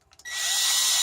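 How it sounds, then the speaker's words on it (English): A power drill spins up after a couple of soft clicks and whines steadily, loud and close, while cleaning corrosion and gunk out of the holes of a plug on a Volvo. "I clean it up with a drill."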